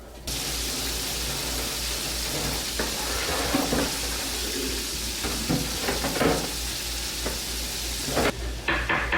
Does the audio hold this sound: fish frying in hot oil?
yes